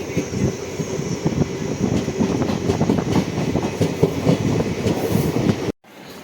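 A passenger train rolls along the rails into Bharuch railway station with steady rumbling and rhythmic clacking, close and loud, before the sound cuts off near the end.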